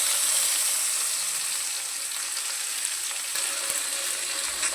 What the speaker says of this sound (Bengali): শুকনো লঙ্কা থেকে সুন্দর একটা গন্ধ ছাড়লে দিয়ে দেব কেটে রাখা পেঁয়াজ